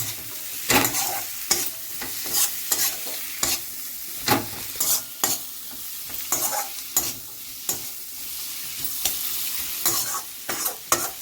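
Onions and whole garlic cloves fry in a pan, with a continuous hiss under repeated sharp scrapes and clatters of a spoon stirring, close and fairly loud, no voices.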